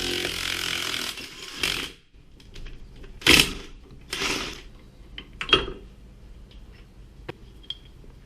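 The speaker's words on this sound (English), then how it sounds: "Got the big C clamp, and I just put the nut on the ball joint, and I'm going to try to press it straight out" A big C clamp presses the ball joint out of a 7th-gen Honda Civic front lower control arm, giving a few sharp metallic cracks and creaks among quieter ratcheting and scraping, close and fairly loud.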